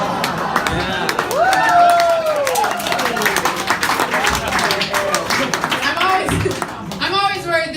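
Comedy club audience clapping and cheering after a joke in a stand-up set, a dense crowd wash of applause with voices mixed in, loud and sustained throughout.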